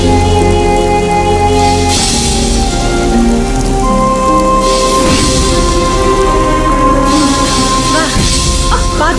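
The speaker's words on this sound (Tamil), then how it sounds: "மழை வந்துருச்சு" Heavy rain pouring down steadily and loudly, with overlapping Tamil voices and shifting tones from a Tamil television serial scene.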